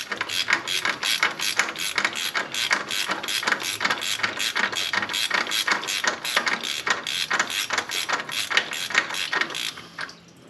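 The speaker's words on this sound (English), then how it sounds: "Be tightening on that thing all day with the wrong size freaking socket." Ratchet and socket tightening a gauge adapter on a junkyard Ford F100, a steady rapid series of sharp metallic clicks repeating close up and loud for about ten seconds before stopping.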